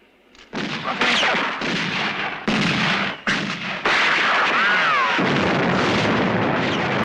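Loud, dense gunfire and exploding bombs from a 1980 Vietnam war film, repeated bursts and blasts packed closely together with hardly any pause.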